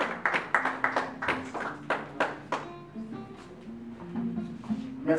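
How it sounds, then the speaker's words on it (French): Audience applause for an honoree at a youth council working lunch, starting as distinct, fairly loud claps in an uneven rhythm that thin into a quieter, softer patter toward the end, with a few faint tones beneath. "Merci d'applaudir bien fort pour Monsieur Chris Ekoko"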